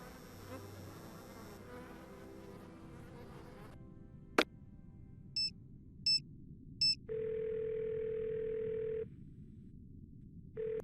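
Cell phone in the Nancy Drew game Ghost of Thornton Hall rings in several short electronic bursts, then a sustained buzzing tone, clear and close in a quiet scene after soft music fades.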